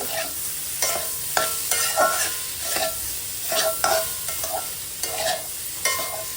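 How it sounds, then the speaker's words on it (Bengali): Shredded cabbage stir-fried with spices in a pan for a fish-head cabbage curry, a low sizzle punctuated by a regular series of scraping, clattering spatula strokes roughly every half second. "এরপর মশলাটা পাতাকপির সাথে আবারও ভালোভাবে নেড়ে চেড়ে কষিয়ে নেব।"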